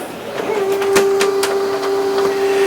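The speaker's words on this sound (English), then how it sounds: "The printer goes wild." A printer churns out a long cruise booking form with a sustained mechanical whine and a series of rhythmic clicks and thumps as pages feed, loud and close.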